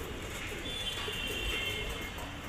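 Dabbwale pigeons in a loft coo softly, low murmuring calls blending into a steady background hum at moderate distance.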